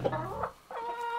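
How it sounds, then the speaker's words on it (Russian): Hens cluck softly and repeatedly nearby in a village yard, a few low murmuring calls with a short pause between them. "Вот они, курочки наши ходят."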